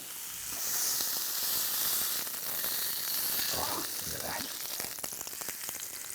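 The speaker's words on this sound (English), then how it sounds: "Have a listen to that sizzling away." Pork cutlets searing skin-side down in cast iron on a wood-fired pot-belly stove produce a loud, steady hissing sizzle that swells and holds, with faint crackles and light handling noises over it and no talking.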